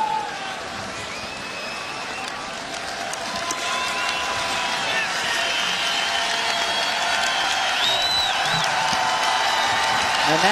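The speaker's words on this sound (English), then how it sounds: "And that is the sound of the Iowa fans cheering on Nate Stanley and this offense today." Iowa football fans cheer and clap inside a stadium during an away game at Indiana, a broad, distant crowd roar with scattered whoops that swells slightly and holds steady.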